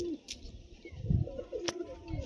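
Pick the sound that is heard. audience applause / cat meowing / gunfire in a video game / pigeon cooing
pigeon cooing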